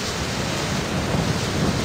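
Heavy rain pours during a thunderstorm as it makes landfall, a dense, steady roar of broadband noise with low rumbling underneath, loud and unbroken throughout, no voices.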